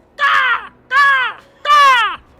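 A voice imitates a crow, giving three drawn-out, harsh caws in a steady rhythm, each close and loud with short pauses between.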